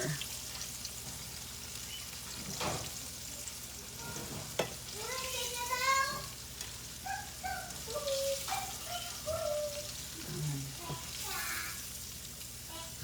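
Popcorn chicken cooking in a pan with sweet and sour sauce: continuous soft frying sizzle with scraping stir strokes, close by, with brief snatches of a voice over it.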